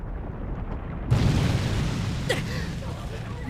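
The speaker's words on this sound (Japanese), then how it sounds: "爆破。" A sudden explosion in the anime My Hero Academia bursts in after a quiet stretch, a loud deep boom followed by a rumbling roar that fades slowly.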